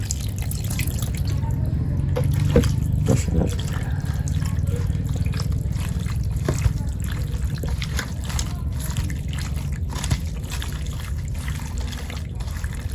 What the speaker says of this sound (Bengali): দিয়ে দিব হালকা পরিমাণ জল,